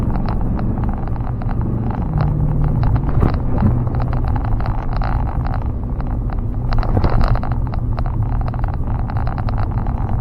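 A pickup truck with Bilstein suspension and Nitto Exo Grappler AWT tires pulls throttle in four-wheel drive on snow, a steady loud engine rumble close by, with wind buffeting the microphone.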